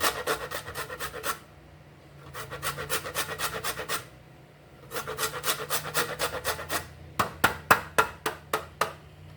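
A lime rasped against a grater in quick, close rhythmic strokes, coming in four bursts with short pauses between them, the final strokes sharper and more spaced out.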